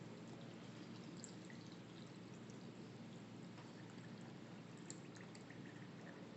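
Water poured steadily into a sourdough starter, a continuous soft hiss of running liquid that stays even and quiet for the whole stretch with no talking.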